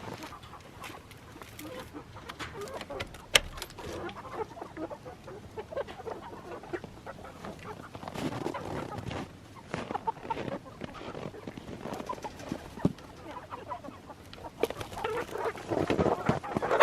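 Backyard chickens clucking on and off at moderate distance, with rustling and handling noise through the scene and a louder burst of activity near the end; no talk.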